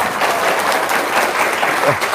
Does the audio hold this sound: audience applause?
yes